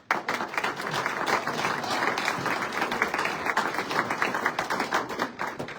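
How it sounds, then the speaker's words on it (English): Sustained audience applause fills a banquet hall at a county Lincoln Day political dinner, a dense even wash of many hands clapping steadily throughout. "Please give him a round of applause."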